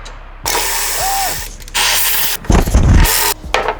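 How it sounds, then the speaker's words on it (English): A ratchet loosening the battery tray bolts on an MR2 Spyder, with several loud, close bursts of rapid clicking broken by short pauses. "what we're about to do here is start removing these bolts for this battery tray."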